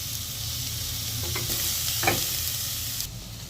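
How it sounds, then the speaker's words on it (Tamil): Chopped onions and two green chillies sizzle in hot oil in a pan while being stirred, with salt added, a loud continuous crackling hiss with a couple of scraping spoon strokes, no talking. "வெங்காயம் வதங்குறதுக்காக உப்பு ஆட் பண்ணிக்கலாம்."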